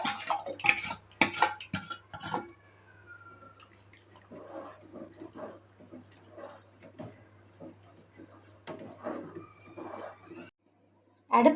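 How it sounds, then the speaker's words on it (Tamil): A spoon stirs pearl millet porridge in a pot on a low flame, making soft, intermittent scrapes and sloshes over a steady low hum. "அடுப்பை லோ ஃப்ளேமில் வச்சு நம்ம லைட்டாக கிண்டிக்கிட்டே இருக்கணுங்க"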